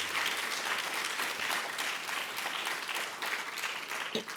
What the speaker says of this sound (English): Please give a round of applause to all of our presenters and our sponsors and all the organizers of this event.